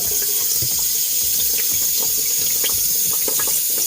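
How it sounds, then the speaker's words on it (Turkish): Water splashing and leaking from the joints of a concealed toilet cistern, a steady, close hiss of spraying water with scattered droplet splashes. "sıçratmayı görüyorsunuz. Bu sıçratma haznenin şurada gördüğünüz ek yerleri var."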